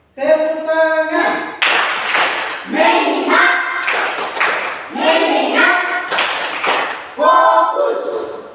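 Children in a classroom clap together in short, loud bursts that alternate with a teacher's spoken phrases, the claps sounding close and sharp between the voices.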